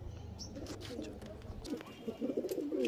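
Pigeons of a high-flying breed (Andhra and Malboy) in a loft give soft cooing and wing flutters, close but fairly faint, over a low background rumble.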